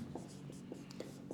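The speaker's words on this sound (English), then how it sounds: "Let me write here." Marker or chalk strokes on a classroom board, several soft, brief scratches at a steady pace, faint and close, with a low murmur of voices underneath.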